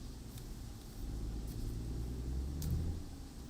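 A deep, steady truck engine rumble in American Truck Simulator drones low and constant, swelling slightly midway, with faint brief clicks above it.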